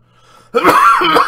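A single harsh, loud cough bursts out close by after a brief moment of near silence.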